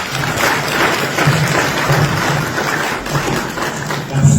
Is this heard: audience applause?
yes